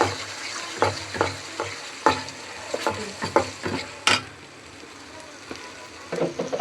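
Ground cumin, chili, green chili and turmeric sauté in a pan with salt and bay leaves. Stirring scrapes and a sizzling fry come close and loud in irregular bursts, with a quieter pause near the end.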